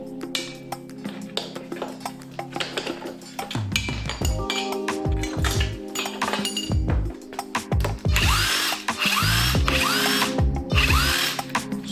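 A power tool buzzes in loud bursts while the wheels come off a Honda Grom motorcycle, mixed with metallic clinks and rattles of parts. The sound is close, with no voices.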